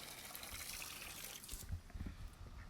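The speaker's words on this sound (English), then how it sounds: "So I'm going to turn this water off" Water runs steadily from a garden hose outdoors on a hot day, a soft continuous hiss and trickle at moderate distance with a few louder splashes near the end and no talking.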